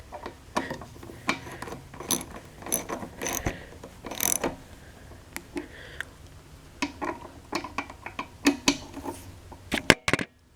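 A bolt on a lawnmower is tightened with a ratchet, giving irregular clicking and clattering mechanical ticks in short bursts, close by and fairly quiet, with no talk.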